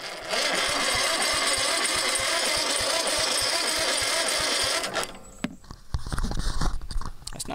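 An engine is cranked over on a half-charged jump box, giving a loud, steady, rhythmic churning of the starter for about five seconds; it then stops abruptly and is followed by clunks and shop noise.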